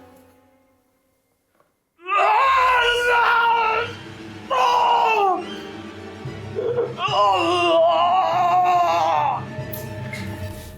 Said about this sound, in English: You start to hear a guttural scream from outside.